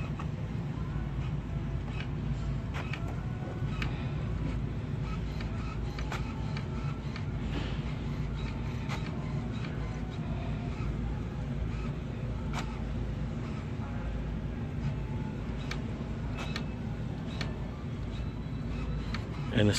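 An HP 6255 inkjet printer calibrating: a steady mechanical whir and rumble with repeated light ticks and clicks from the print mechanism, running continuously at moderate loudness.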